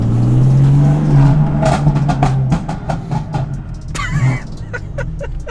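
A BMW M4 engine with a Stage 1 tune revs and settles, with sharp crackling pops and burbles from the exhaust, loud and close.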